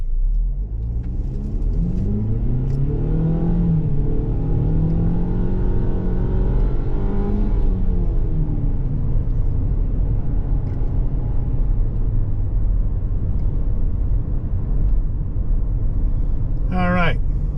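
A 2023 Ford Bronco Sport Badlands with a new engine accelerates, its revs climbing in a rising drone through several gear-like steps before settling into a steady rumble, close and loud, ending with a brief high chirp.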